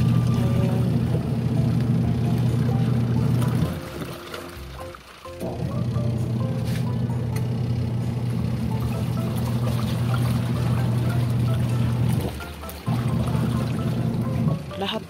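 A Fujidenzo 8kg washing machine churns with water in a loud, steady low drone and sloshing rush, briefly cutting out twice before resuming, close and continuous.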